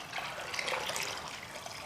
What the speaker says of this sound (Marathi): आणि डाळीच्या तिप्पट आपल्याला पाणी ओतायचं आहे।